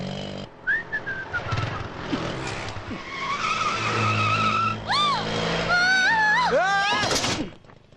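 A vehicle skids to a sudden stop in a near collision in a comedy film scene, with loud tire squeals and engine noise under music and rising whistle-like tones.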